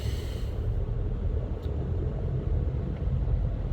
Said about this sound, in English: Oh my God, there's a big traffic jam here.